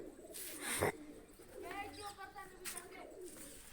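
Soft pigeon cooing, faint and somewhat distant, mixed with murmuring voices and light rustling.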